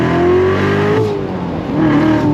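A Lingenfelter 720 C7 Corvette Z06 with a seven-speed manual roars at full throttle, its pitch climbing steadily through the revs, loud and close, with a brief dip before pulling hard again.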